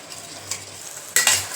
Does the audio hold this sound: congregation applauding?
no